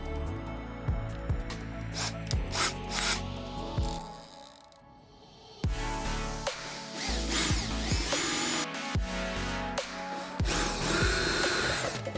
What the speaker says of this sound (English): Now we determine which size hole we need to drill.